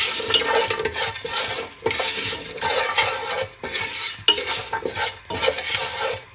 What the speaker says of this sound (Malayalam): എന്നിട്ട് നമുക്ക് ഒന്ന് ഇളക്കി കൊടുക്കാം